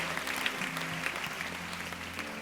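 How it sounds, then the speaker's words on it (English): A church congregation claps hands together in a dense, continuous burst of applause, moderately quiet and without distinct voices. "Clap your hands"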